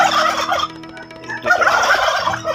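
Several turkeys gobble loudly and close by on a poultry farm of laying turkey hens, two rapid rattling bursts separated by a brief lull.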